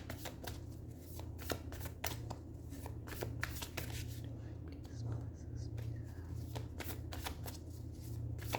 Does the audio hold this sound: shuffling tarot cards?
yes